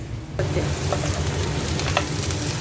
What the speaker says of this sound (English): has started frying all the vegetables with a little bit of oil